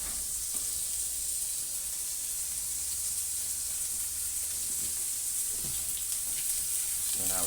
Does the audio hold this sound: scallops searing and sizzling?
yes